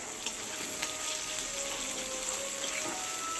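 Two green chillies frying in a pan of oil, a steady close hiss of sizzling with faint crackles throughout, no talking.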